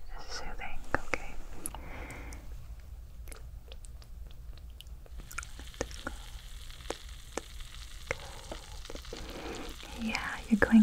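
A sizzling, fizzing crackle inside the ear during an ASMR head spa and ear-cleaning massage, soft and close, running under whispering with scattered crisp ticks.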